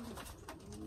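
A pet pigeon or dove coos softly in a run of low, repeated calls, close by and fairly quiet against a steady background hum.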